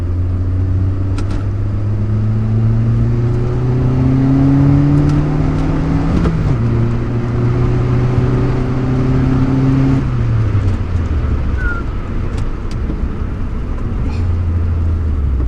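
Turbocharged 1992 Fiat Uno Turbo engine accelerating hard through the gears, loud steady drone rising in pitch, dipping at each shift, then pulling again with no talk over it.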